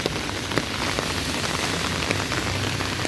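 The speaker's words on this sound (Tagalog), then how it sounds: "Walking on the rain" Steady rain falls on surfaces along a street in the Jurong area, heard up close and continuous, with scattered drop patter and no talking.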